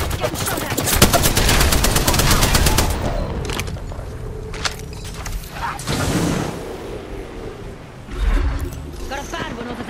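Rapid bursts of automatic gunfire in a squad-based shooter video game, loud and dense at first, then thinning into scattered shots and a later burst, with a voice now and then.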